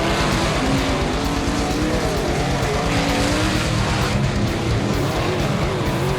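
Sprint cars race around a dirt track, engines roaring loud and continuous with tire noise and skidding, the pack close by without a break.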